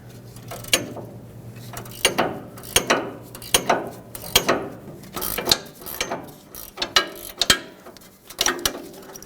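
A ratchet turns a nut while a front strut is removed from a 2015–2020 Ford F-150 pickup. Close, loud bursts of rapid clicking repeat about a dozen times with short pauses between, and no one talks.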